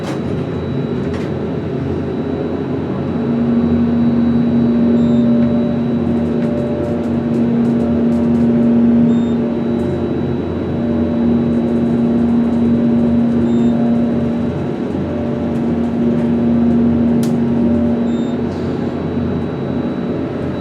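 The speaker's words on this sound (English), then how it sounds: "this elevator has a pretty epic motor too" Motion Control (MCE) hydraulic elevator motor running steadily at Gilbert Hall, NIU, a constant mechanical hum with a sustained tonal whine that swells slightly midway, alone with no voices.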